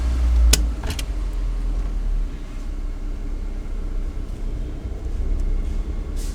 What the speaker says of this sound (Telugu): సో మెల్లగా క్లచ్ రిలీజ్ చేస్తూ ఎక్సలేటర్ ఇస్తున్నాను